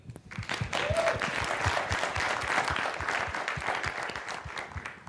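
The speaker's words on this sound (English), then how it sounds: "all of you to clap for the Keyblade team." Audience applause for the Keyblade team at an Agile Africa 2016 conference talk, a steady dense clapping that swells quickly and holds fairly loud for about five seconds, with a faint voice briefly audible near the start.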